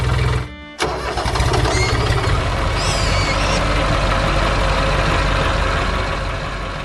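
An engine turns over and catches after a brief pause, then settles into a loud, steady idle. It stands in for a cartoon green tractor working a farm field.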